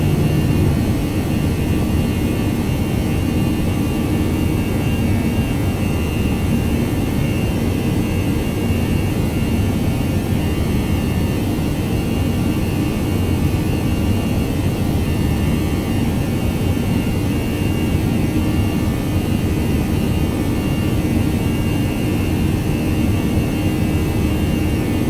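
A ToLiss Airbus A319 in flight in the X-Plane 11 simulator, on a flight from Miami to Key West, gives a continuous loud jet engine and cockpit rumble with no break.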